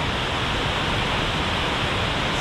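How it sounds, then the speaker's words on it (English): A waterfall along the Fern Lake trail, a loud steady roar of falling water, close and unbroken, with no speech. "I always stop and take some footage of that waterfall."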